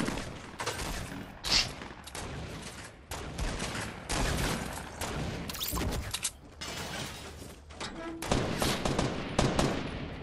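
Video game gunfire during a home invasion scenario, with rapid, dense shots and crackling bursts filling the scene at steady loudness.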